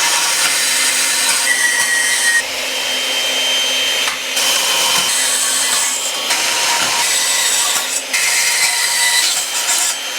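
A small portable band saw on a stand cuts notches into metal tube, giving a close, steady high-pitched grinding rasp in several long passes with short breaks between cuts.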